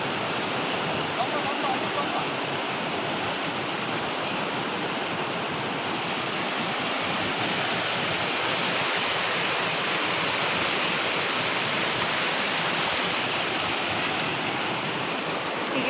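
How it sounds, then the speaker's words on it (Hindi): River water flowing steadily near a bridge where the river widens almost like a lake in Mirik, a continuous broadband rush holding even throughout with no breaks. "नदी पूरा झील टाइप में आ रहा है"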